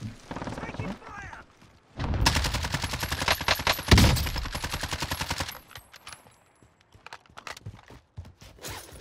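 Rapid automatic gunfire in Call of Duty: Black Ops Cold War Warzone, a loud, sustained burst of tightly spaced shots lasting several seconds, followed by scattered quieter shots and clatter.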